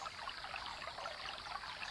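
Water being poured as a kitten is placed in it, a faint, soft trickling and splashing that runs steadily throughout without voices.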